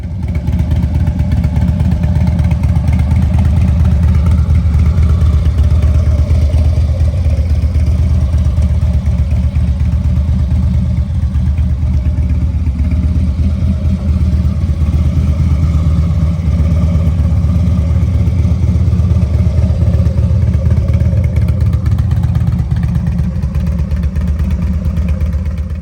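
A Harley-Davidson Dyna motorcycle engine rumbles steadily at a loud, close idle throughout, with a deep, even, lumpy throb and no talking.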